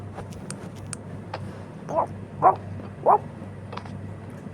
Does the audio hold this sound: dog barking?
yes